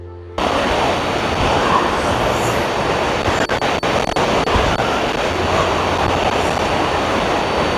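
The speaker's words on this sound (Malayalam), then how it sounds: "വെള്ളം ഇങ്ങനെ ഇരച്ച് വീഴുന്ന സൗണ്ടാണ് ഈ കേട്ടുകൊണ്ടിരിക്കുന്നത്" Water rushes down the Aruvikachal waterfall in a steady, loud, broadband roar that fills the whole stretch without pause, heard up close with no talking over it.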